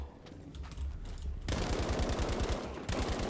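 Rapid automatic gunfire in the multiplayer shooter Battlefield V, using an STG assault rifle as the assault class: a quieter stretch, then loud, continuous bursts of closely spaced shots filling the second half, briefly broken near the end.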